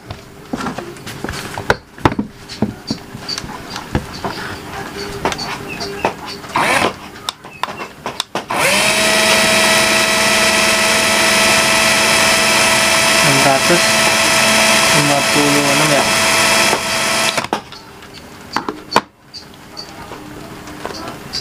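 A McCulloch 12V cordless drill runs at high speed as a steady, loud whine for about nine seconds, with some talking before and after it.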